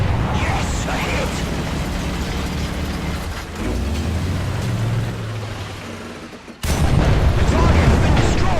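A modified 120mm Rheinmetall tank gun in War Thunder fires with a sudden, loud, sharp blast over the steady rumble of the tank's engine, which continues after the shot.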